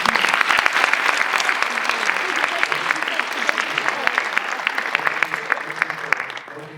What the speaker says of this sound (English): please give yourself a round of applause for the incredible work.